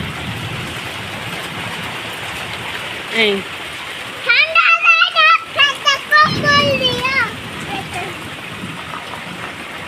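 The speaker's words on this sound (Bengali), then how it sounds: "এখন সেই টাইমটায় অনেক বৃষ্টি," Heavy rain pours during a Kalbaishakhi nor'wester storm, a dense, steady hiss filling the whole stretch, while voices, one of them childlike, talk briefly near the middle.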